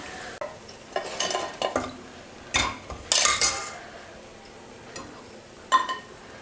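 Pakoras being lifted out of hot frying oil in a pan for Allahabad-style sakauda chaat, with light sizzling beneath a series of clinking metal utensil scrapes and taps against the pan, no talking.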